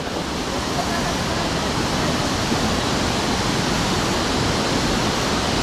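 Estrella Falls in Narra, Palawan pours as a loud, dense, unbroken roar of falling water close by, filling the whole stretch without pause.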